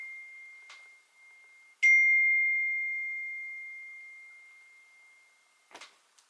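A phone text message notification rings out as a clear sustained electronic tone that slowly fades, set off by a brief chirp just before it and a couple of soft clicks near the end in an otherwise quiet room.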